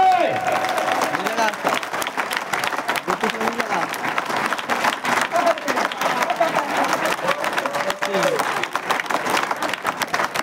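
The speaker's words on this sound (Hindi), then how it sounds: "थोड़ा एक मन पर जोरदार ताली बजा दो" A large crowd at a political rally in Chhattisgarh claps loudly and continuously for ten seconds. The thick wash of applause never lets up, and scattered voices and shouts rise within it.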